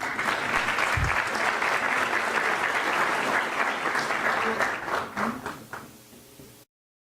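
Sustained audience applause at a year-end ceremony honouring award recipients, dense clapping from a crowd that gradually thins and fades before cutting to silence.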